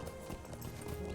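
Horses galloping in the Lord of the Rings Online game, a dense quick clatter of hooves, faint and continuous through a brief moment.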